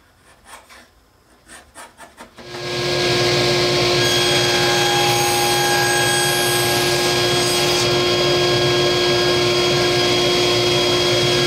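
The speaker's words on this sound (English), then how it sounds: "I'm going to cut this to its final length, which is going to be 1 3/4 of an inch long" A small wooden piece is cut to a final length of 1 3/4 inches: a few rhythmic rasping strokes come first, then a loud, steady powered saw runs continuously to the end.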